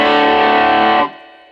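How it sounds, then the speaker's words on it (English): A guitar played through a distorted 1980s solid-state amp rings out as one loud, thick sustained chord that cuts off sharply after about a second, leaving a faint fading tail. "I know you guys have been waiting to hear the distortion on this thing, so let's crank it up."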